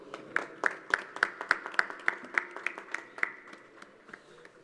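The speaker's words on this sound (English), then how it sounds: "Give a big round of applause" Audience applause at a flag hoisting ceremony for the 80th Independence Day, heard as a string of sharp, evenly spaced claps with thinner clapping behind them, fading out over several seconds.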